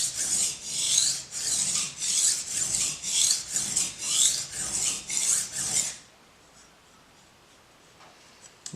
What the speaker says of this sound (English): so we're just going to keep going back and forth on the 400 grit for a short while